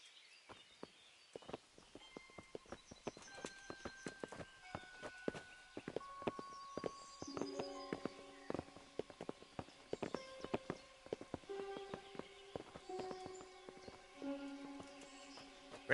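Horses' hooves clip-clop steadily on the ground in the medieval video game Kingdom Come: Deliverance, a continuous walking rhythm under sustained musical tones.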